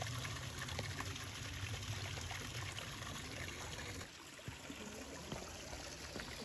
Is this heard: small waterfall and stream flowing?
yes